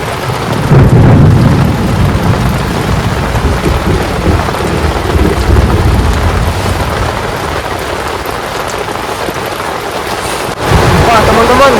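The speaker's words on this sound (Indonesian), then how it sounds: "hujannya deras banget, petirnya dari tadi" Heavy rain pours steadily at a hilltop mountain campsite with low rumbling thunder rolling underneath, loud and close throughout, with a brief dip and a renewed surge near the end.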